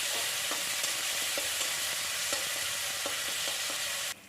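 Chopped tomato and ginger-garlic paste sauté in mustard oil for sorshe posto ilish, a loud continuous hiss punctuated by regular spatula taps, cutting off abruptly just before the end.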